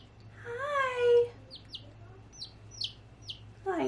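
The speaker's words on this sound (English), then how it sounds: "if you hear chirping, just think of it as like an ambiance" A pet bird named Peep calls close by: first a longer warbling call, then a series of short, sharp chirps spaced out over a few seconds.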